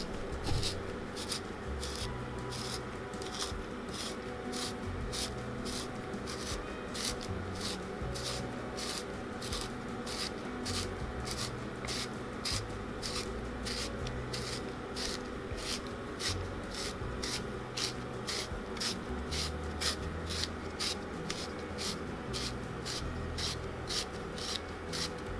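Zucchini being spiralized into noodles, with a steady, close, rhythmic scraping and rasping crank that repeats evenly for the whole stretch, with no talking.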